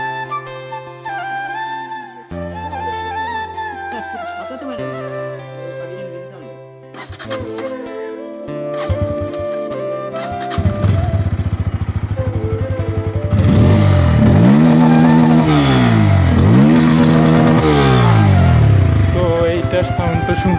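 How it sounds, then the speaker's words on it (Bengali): Motorcycles, a Gixxer and Pulsar 160 bikes including fuel-injected ABS and carburetor versions, being started and revved one after another, growing louder with repeated rising and falling revs near the end, with a voice talking over them. "সো এবার এই তিনটা বাইকের সাউন্ডটা একটু টেস্ট করা যাক।"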